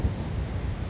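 Onshore wind blows across a beach in Cartagena, a steady low rumbling buffet with faint surf wash underneath, constant throughout the brief moment.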